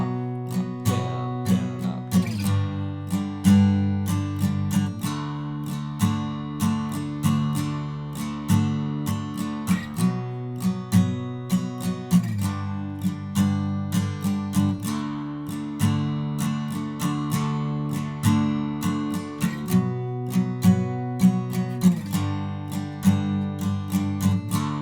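Acoustic guitar strums the chorus of a song, with steady rhythmic chord strumming and regular chord changes at an even, moderately loud level, played solo with no voices.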